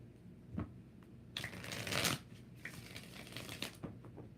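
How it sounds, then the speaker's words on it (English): An old, well-worn tarot deck is shuffled by hand in quick riffling bursts, loudest in the middle, with a softer rustle continuing around them. Nobody speaks. "I'm just shuffling my oldest,"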